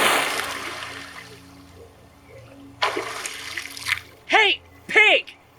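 A woman thrown into the water by a pig-headed figure: two short, loud splashes close together near the end, after a louder burst of water sound in the middle and a stretch of quiet low hum.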